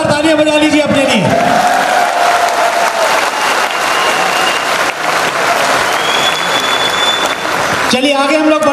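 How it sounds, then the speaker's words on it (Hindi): Loud sustained applause from a large audience at a motivational talk, dense continuous clapping filling the room, with a speaker's voice briefly audible at the start and end. "एक बार जोरदार तालियां बजा लीजिए अपने लिए।"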